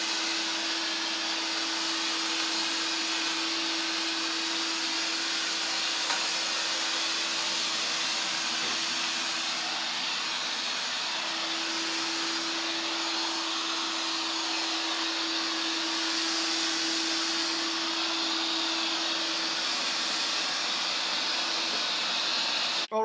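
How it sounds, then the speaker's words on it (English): A eufy RoboVac L35 robot vacuum sucks up sand and Cheerios with a constant close whirring hiss and a steady motor whine, unbroken throughout with no talk. "after 1 pass, all the sand has been sucked up, most of the Cheerios as well."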